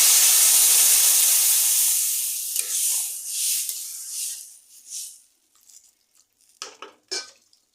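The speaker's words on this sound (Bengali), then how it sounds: "দিলাম হলুদ দিয়ে কষা হয়ে গেছে এবার দিয়ে দিচ্ছি জল" A loud burst of steam and sizzle as water hits a hot pan of frying fish curry with taro, fading over a few seconds into softer bubbling and a few light clinks of utensils.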